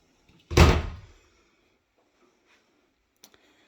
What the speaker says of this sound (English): This is the back door